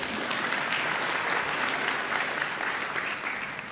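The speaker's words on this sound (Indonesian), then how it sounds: "Mau tepuk tangan gak apa-apa juga." A church congregation applauds during a sermon, with a full, continuous wash of clapping from many people, moderately distant and even in level, with no talk over it.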